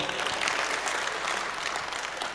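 A school audience at SMK Islam 1 Blitar applauds a visiting speaker after a talk, an even, continuous crowd clapping heard from a slight distance at moderate volume.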